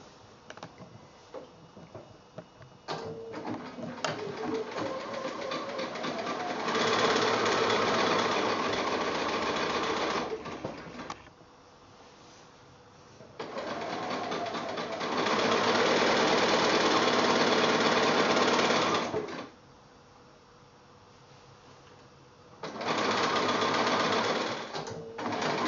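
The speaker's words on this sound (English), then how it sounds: "I'm going to go ahead and sew my diagonal lines, chain piece them through" A sewing machine chain piecing quilt triangles along diagonal lines, running in three loud sustained bursts of rapid stitching separated by quieter pauses with handling clicks and fabric shuffling.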